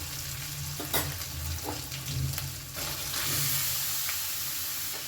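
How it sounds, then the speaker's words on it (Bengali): Pieces of ash gourd drop into hot oil with fried spice paste and sizzle loudly and steadily, with scraping stirs mixing them over a high gas flame. No talking. "এবার আমি এর মধ্যে পেটে রাখা চাল কুমড়োটা দিয়ে দেব"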